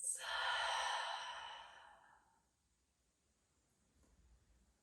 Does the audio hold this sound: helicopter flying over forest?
no